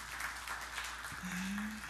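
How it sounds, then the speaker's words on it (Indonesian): Church congregation clapping during a worship service, a dense, even patter of many hands that holds steady for a couple of seconds, with a brief tonal hum near the end. "Kita beri tepuk tangan yang meriah bagi Tuhan Yesus."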